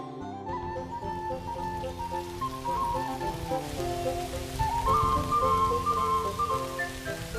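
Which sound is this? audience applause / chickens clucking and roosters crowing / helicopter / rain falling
rain falling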